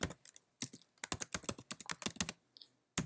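Rapid bursts of keystrokes on a computer keyboard as a folder name is typed, clustered in quick runs with short pauses, close and clear with no voices.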